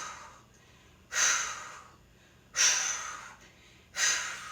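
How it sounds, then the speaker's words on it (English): Three forceful breaths pushed out during a plank hold in a kettlebell workout, evenly spaced about one and a half seconds apart, each a loud close-up airy rush that fades quickly, with quiet between them. "Hard exhales, flexing your abs each time."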